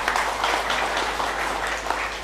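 Audience applause at an inauguration ceremony for the BLN headquarters in Madiun, a steady dense wash of clapping that holds at an even level throughout.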